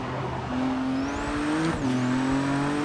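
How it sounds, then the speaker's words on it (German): A loud race car engine in Forza Motorsport 6 drones at a steady high pitch, briefly dips as it shifts and climbs again, sounding close and constant throughout with no talking. "Das Auto ist einfach ziemlich laut gerade."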